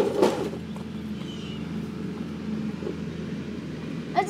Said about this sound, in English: It's a tractor.